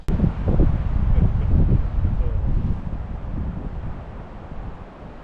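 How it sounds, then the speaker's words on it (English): Cold wind gusts hard across open, rocky ground in Wyoming, a loud, steady blustery roar buffeting the microphone that eases slightly toward the end. "this wind is really cutting through."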